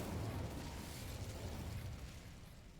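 Incendio fire spell cast in Hogwarts Legacy, a steady broadband roaring rush of flame that holds strong for nearly three seconds and fades slightly toward the end, with no talking.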